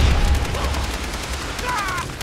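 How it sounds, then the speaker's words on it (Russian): Gunfire in the Far Cry 3 video game, a rapid volley of shots in quick succession with a heavier boom at the start, fairly close against a steady game soundscape. "Вот они палят откуда-то, я не знаю даже откуда."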